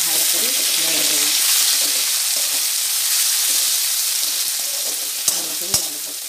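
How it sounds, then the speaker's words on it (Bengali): Chopped tomato frying with boiled potatoes sizzles loudly and steadily in a pan, with soft scraping strokes of a spoon stirring through it and two sharp taps near the end. "টমেটো কুচিটা দিয়ে ভালো করে নেড়ে দেবো,"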